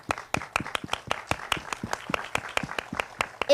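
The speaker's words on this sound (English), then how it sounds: "I would like to give a round of applause" Audience applause at a scholarship program orientation: a small group clapping in a quick, uneven patter of sharp, distinct claps, fairly close and steady throughout, with no talking.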